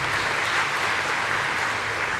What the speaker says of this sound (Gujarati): એકવાર એમને પણ તાળીઓના નાદથી વધાવીએ।